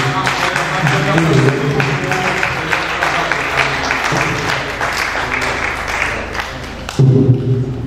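A church congregation applauds and cheers as a pastor is welcomed to the pulpit. Thick, continuous clapping fills the hall with crowd voices mixed in, and a fresh surge of claps and cheering rises near the end.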